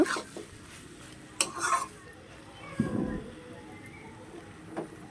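Cooked flat beans being mashed and stirred in a pan with a utensil, a few scattered scrapes and clinks over a quiet background, with someone speaking at moments.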